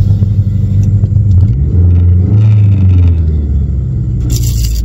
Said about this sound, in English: Got some exhaust rattle.